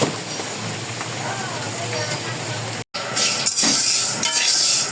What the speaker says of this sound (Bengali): ডাল ভেজে নিচ্ছি